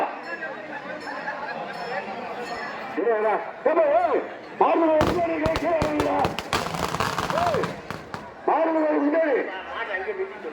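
Rapid crackling bursts of firecrackers going off in the middle of the clip at a bull-running festival in Tharamangalam, Salem, near a Mariamman temple, with people talking loudly before and after.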